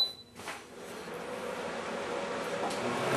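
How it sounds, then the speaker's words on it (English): An electric fan runs in a scroll saw workshop, giving a steady broadband whoosh that fades in after a brief quiet start and then holds at an even, moderate level. "I'm going to go ahead and turn on a fan here because it's getting pretty hot in here"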